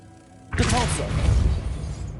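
Depulso spell cast in Hogwarts Legacy, a quiet lull broken by a sudden forceful burst with a crashing, shattering impact and rumbling tail, with a short voiced spell cry mixed in.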